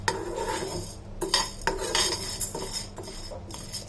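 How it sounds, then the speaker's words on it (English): A spoon scrapes and clinks against a pan as urad dal powder is stirred while dry roasting, in irregular knocks and scrapes at moderate volume with no talking. "Stir it for a few minutes."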